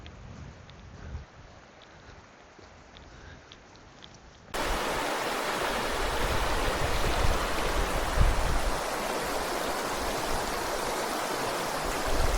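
Rushing water from a hidden waterfall at Glenshane, a steady broadband roar that starts moderate and jumps noticeably louder about a third of the way in, continuing unbroken with no voices.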